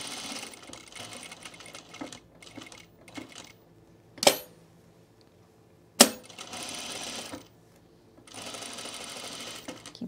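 A sewing machine stitches a bodice seam on a Reynolds top, running in short bursts and a longer final run, with two sharp clicks and quiet pauses between.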